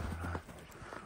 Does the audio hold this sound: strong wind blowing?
no